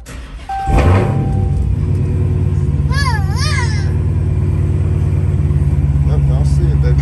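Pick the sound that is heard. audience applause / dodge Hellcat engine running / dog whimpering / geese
dodge Hellcat engine running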